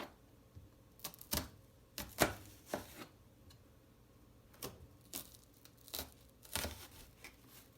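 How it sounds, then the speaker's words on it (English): Kitchen knife slicing through an onion on a cutting board, a series of separate crisp cuts and knocks at an irregular pace, close and fairly quiet with no talking. "now you want to cut it through the onion"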